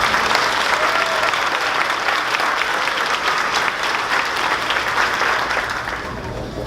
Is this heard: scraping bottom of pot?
no